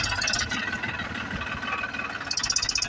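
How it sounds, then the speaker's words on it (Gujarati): A tractor engine runs nearby with a steady, throbbing idle and a gritty mechanical rattle on top that grows slightly choppier near the end. "આ અમારું ટ્રેક્ટર આવી ગયું છે"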